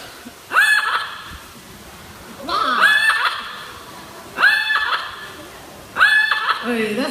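A talking bird at a bird show in Bird Park Singapore gives four cackling, laugh-like bursts in a regular rhythm, loud and close, each separated by a short quiet gap.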